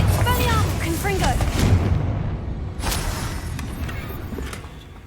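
Bombarda and Confringo spells explode in the video game Hogwarts Legacy, booming in a string of loud blasts with crackling debris and a rumbling decay, while a voice calls out over the first part.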